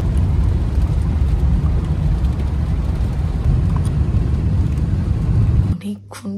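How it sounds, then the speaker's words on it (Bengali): Heavy rain and wind roar pour over a motorbike ridden through a downpour, a loud steady broadband wash filling most of the clip before it suddenly drops away near the end. "যে হারে বৃষ্টি হচ্ছে, বেশ ভালো বৃষ্টি হচ্ছে বাইকের মধ্যে।"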